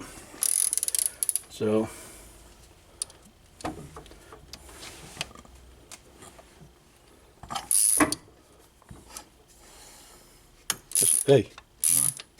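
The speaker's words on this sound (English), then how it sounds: "just loosen them all" A ratchet wrench loosening bolts on a car A/C compressor, heard as several short clicking ratchet bursts separated by quiet gaps, close by, with someone speaking briefly.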